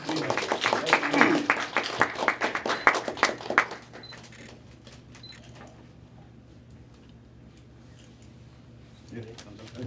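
Applause breaks out at a church installation thanksgiving service in Namdaemun Church, dense clapping for about four seconds before fading into quiet room tone with a faint murmur at the end.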